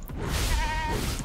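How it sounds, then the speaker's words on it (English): A sheep bleats once in the video game Tokyo Jungle, a short, wavering, nasal cry heard close and clear with no talk over it. "There's a lot of sheep too."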